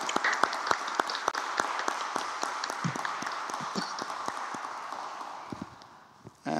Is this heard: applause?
yes